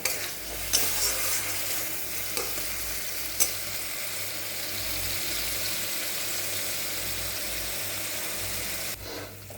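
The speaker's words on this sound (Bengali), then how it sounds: "একটা বড় পেঁয়াজ বাটা দিয়ে মশলাটাকে আমি এখন এটা ভালো করে কষিয়ে নেব" Onion paste masala for a spicy small-fish curry fries in a pan, giving a steady close sizzle with scraping stirs and a few sharper knocks, over a low electrical hum.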